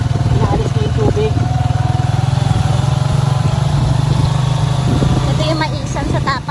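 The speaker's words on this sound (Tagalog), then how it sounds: "Ayun, umanda yung makina na doon." Pump engine running steadily to drain a flooded cornfield in front of a school in Cabiao, Nueva Ecija after a typhoon, a continuous low rumble with voices talking over it.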